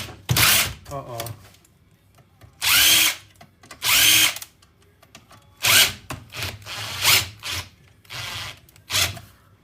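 Power drill or screwdriver whirring in several short bursts while taking screws out of a scrapped desktop computer, close and loud, with rattling metal handling between bursts.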